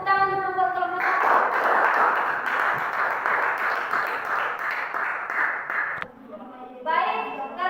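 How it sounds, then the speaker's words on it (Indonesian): Classroom applause for a student group that has just finished presenting in a teacher-training lesson, a dense burst of clapping lasting several seconds before fading, with a voice speaking briefly at the start and again once it dies down. "Tepuk tangan dulu buat kelompok 1."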